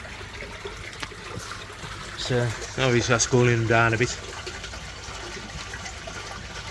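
Fresh water runs into an outdoor fish pond as a steady, soft trickle and splash, with someone talking over it for part of the time.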